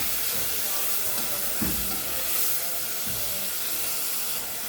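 Tomatoes and peppers fry in a pan with garlic and onion, giving a loud, dense, steady sizzle broken by a couple of low stirring knocks, with no speech.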